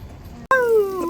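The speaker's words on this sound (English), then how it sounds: "That's the dog." A dog whimpers and yips outdoors in a single close, loud, high whining cry that bends downward in pitch after a brief silence, over a low background hum.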